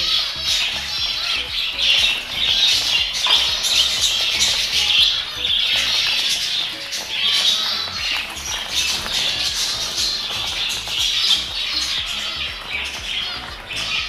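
Adult Bengalese finches and a pair of budgies in an aviary setup, a dense, continuous chorus of close high chirps and squawks throughout.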